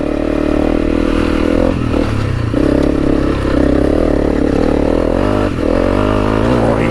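A Honda CRF300L Rally motorcycle climbs a rough hill with a loud, close engine that labors and revs in surges. Clattering and scraping from the rocky track rise through the engine noise.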